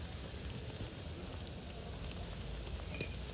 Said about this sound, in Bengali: এইভাবে ভালো করে ভেজে নেব।